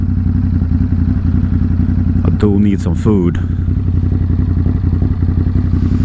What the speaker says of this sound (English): I just don't like hearing noises from the bike.